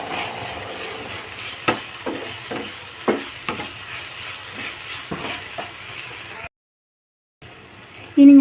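Okra with curry leaves and salt being stirred in a hot pan: a soft, continuous sizzle with repeated scraping strokes of a spoon, a brief silent gap, then louder clatter at the end.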